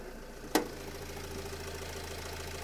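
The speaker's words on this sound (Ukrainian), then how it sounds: "До речі, автомобіль ще холодний, тому трошки працює на обертах, але зараз трошки поробить і він заспокоїться." A cold Renault Trafic 2011 2.0 diesel engine idles at slightly raised revs, a steady low hum with a faint even rhythm, broken early by a single sharp click.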